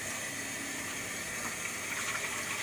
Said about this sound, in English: So we're just gonna pour some water in there and let that be.